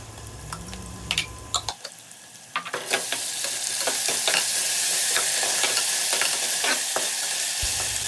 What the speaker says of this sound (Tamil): இஞ்சி பூண்டு பேஸ்ட் ஆட் பண்ணி அதோட பச்சை வாசம் போகிற வரைக்கும் நல்லா வந்துட்டு நம்ம வதக்கி விட்டுக்கலாம்.